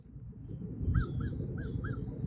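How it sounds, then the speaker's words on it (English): Crows caw four times in an even rhythm, moderately distant, at an outdoor Civil War battlefield site, over a low rumbling background of wind or traffic. "There's the crows."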